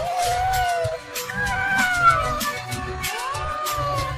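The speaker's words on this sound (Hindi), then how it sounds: "ये इतने सारे बिल्ली के बच्चे हमारे घर में क्या कर रहे हैं?" Several kittens meow in a busy home, their high, rising and falling cries overlapping one after another at close range over a low background murmur.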